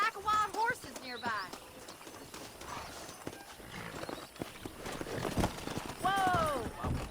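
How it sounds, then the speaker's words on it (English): Horses in the Red Dead Redemption video game near a ranch, hooves clip-clopping with neighs and whinnies at the start and end, amid game sound and talk. "That ranch hand said there's a pack of wild horses nearby."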